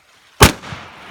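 A single loud shotgun blast fired at a backyard pool, a sharp close-range crack followed by a short decaying rumble, with no talk over it.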